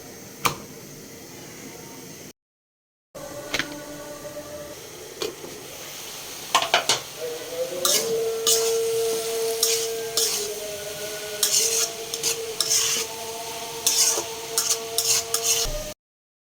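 Flatbread rotis frying one by one in a pan for a breakfast meal, with intermittent clinks and scrapes of utensils against the pan over a low sizzle, and a short silent gap near the start.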